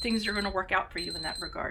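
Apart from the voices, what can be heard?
timer beeping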